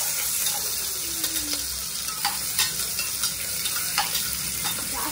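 Small sambar onions frying in a pan, a continuous bright sizzle with light crackles and a few soft stirring scrapes.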